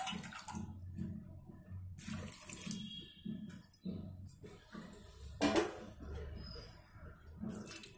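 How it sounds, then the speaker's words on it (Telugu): About half a litre of water is poured into a cooking pot over tomatoes with ginger, salt and chili powder for homemade ketchup, producing uneven gushing, splashing bursts close by with short quieter gaps. "2 గ్లాసులు వాటర్ వేసుకోండి,"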